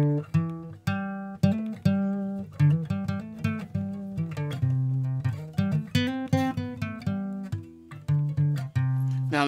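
An acoustic guitar played dry without reverb picks out a melodic run of plucked notes, each attack clear and decaying quickly, played alone and fairly quiet.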